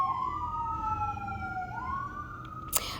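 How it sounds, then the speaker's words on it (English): An emergency vehicle siren wails outside in long, sliding tones, steady and moderately loud, with a brief sharp noise near the end. "sorry if you can hear the sirens outside"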